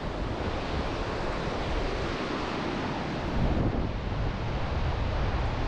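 Sutlej and Spiti rivers rushing together at their confluence at Khab, a steady, loud broadband roar of fast water with wind buffeting the microphone, continuous throughout with no talk.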